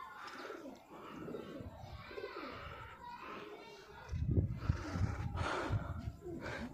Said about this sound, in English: They also have a pigeon setup, high flying pigeon setup.